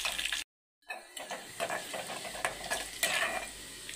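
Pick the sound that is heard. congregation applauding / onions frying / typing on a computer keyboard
onions frying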